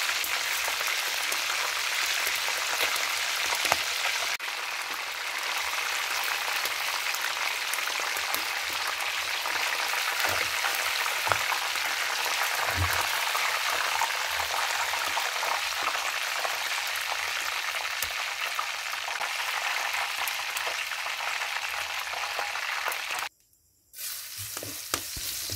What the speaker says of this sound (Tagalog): Gisa na tayo agad ng bawang